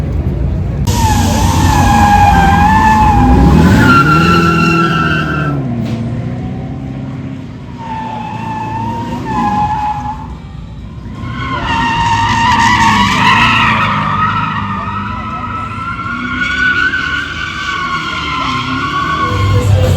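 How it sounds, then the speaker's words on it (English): Car tires squeal and skid loudly during a fast thrill ride at a Mecum collector car auction in Kissimmee, with long screeching runs that rise, dip and surge again over a steady engine roar. "Let's see what the squealing tires are all about."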